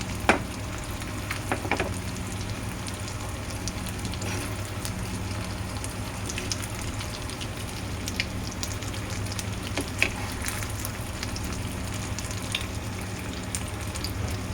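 Pepper fish frying in a little oil, a steady close sizzle and crackle running the whole time with scattered sharper pops and a few faint clinks, no talking over it.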